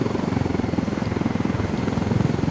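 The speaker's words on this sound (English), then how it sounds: "I am going to try and take down that convoy with this helicopter" Helicopter from the video game Ghost Recon Wildlands, a steady thudding rotor beat with engine drone, loud and continuous throughout with no talk.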